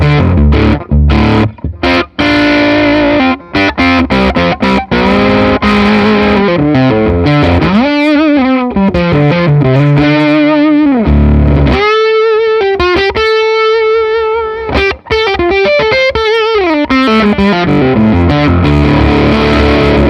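Distorted electric guitar through a sustain pedal, played loud and continuous with chords and single-note runs while the tone control is turned, brightening the bite slightly; no talking.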